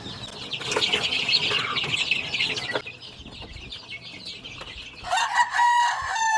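Chickens cluck busily at morning feeding time, with a rooster crowing near the end and occasional wing flaps, all close and fairly loud with no talk.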